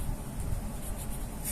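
Fountain pen with a broad Kanwrite nib scratching steadily across paper, a soft, close continuous rasp with faint rhythmic strokes.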